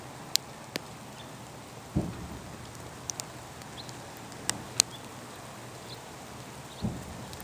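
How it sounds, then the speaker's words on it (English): Rain falls outdoors in Central California, a faint, steady patter broken by a few sharp drop hits and occasional low thuds, with no talking. "I'm getting rained on."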